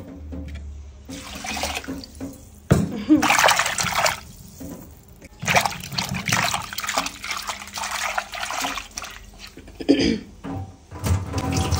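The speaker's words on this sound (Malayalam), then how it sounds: "മാങ്ങ കഴുകിയെടുക്കാം." Mangoes are washed in water in a home kitchen, with bursts of running, splashing water that start and stop several times, close and fairly loud, along with some handling clatter and no talk over it.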